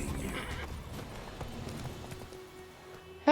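Steady clip-clop of horse hooves in The Witcher 3 under a busy game soundscape, with a brief neigh-like burst at the very end.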